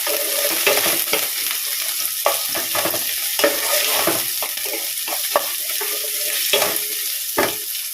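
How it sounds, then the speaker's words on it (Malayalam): Sliced onion, green chili and ginger sizzle as they sauté in a hot pan while cooking a curry. Steady frying hiss is broken by repeated scraping clinks of a spatula stirring, close and loud, with no voices. "അപ്പോൾ സവോള, പച്ചമുളക്,"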